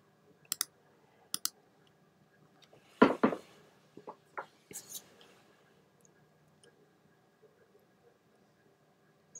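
Computer mouse clicks in Design Space crafting software, a few sharp, isolated clicks spaced apart in a quiet room, with a cluster of soft handling noises in the middle.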